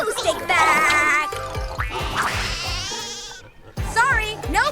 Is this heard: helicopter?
no